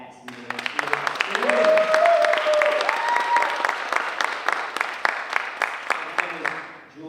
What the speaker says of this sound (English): Let's give a round of applause for Action Dance.